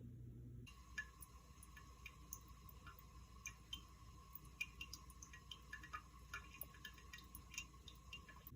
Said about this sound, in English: That's the sound of your flapper leaking.